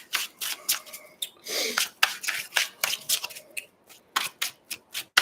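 Tarot cards being shuffled by hand in a series of quick riffles and slides, crisp and close, with short pauses between bursts.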